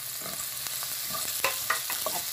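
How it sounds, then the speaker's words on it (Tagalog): Onion sautéing in a pan for a Filipino chicken molokhia dish: a constant oily sizzle with several spoon scrapes and clinks against the pan, close and clear with no talking. "Tapos, isunod po natin ang ating sibuyas. Gisahin lang po natin ang konti."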